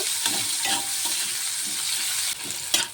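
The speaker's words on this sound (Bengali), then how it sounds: "এই তেলের মধ্যে দিয়ে দেবো এখন পেঁয়াজ কুচি। পেঁয়াজটিকে দিয়ে একটু নেড়ে চেড়ে নেব।" Chopped onion frying in oil in a pan gives a soft, steady sizzle and hiss, with several scraping stirs of a spoon in an uneven rhythm, heard alone at a moderate level.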